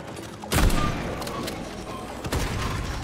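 Shotgun blasts in the robot-apocalypse shooter Atomic Heart, two loud booming shots about two seconds apart over a steady game soundscape.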